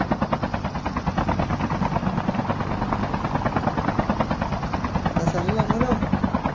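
Helicopter in the video game Call of Duty Mobile battle royale, a loud, close, steady rotor chop with a rhythmic pulsing thump throughout, while players talk over it.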